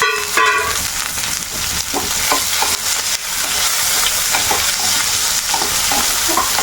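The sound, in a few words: rice and mustard seeds frying in oil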